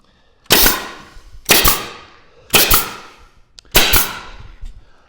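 A 1.75 inch medium crown stapler fires staples into a bookcase panel: four sharp, loud snapping shots, about one second apart, each ringing out briefly.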